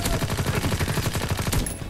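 Rapid automatic gunfire from Call of Duty WWII, with loud, close bursts of shots in a fast, steady rhythm across the whole clip and no talk.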